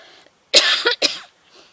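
Three sharp coughs in quick succession, close and loud, with brief quiet before and after.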